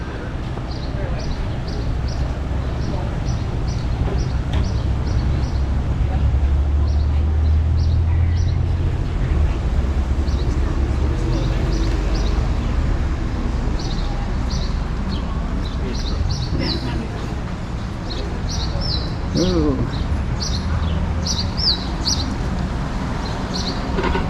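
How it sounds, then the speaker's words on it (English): Birds chirp in short, repeated bursts along a waterfront street in Bar Harbor, Maine, over a steady wash of outdoor town ambience and low traffic rumble, with people talking nearby. "You hear birds chirping"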